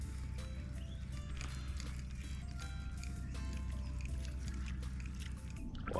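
Kayak paddling on a freshwater river in Australia's Northern Rivers region, with soft water swishes and drips over a steady low rumble of wind and boat noise, continuous and close.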